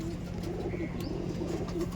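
Teddy flying pigeons cooing in soft, repeated low calls, close and fairly quiet over a steady background hum, with no talking.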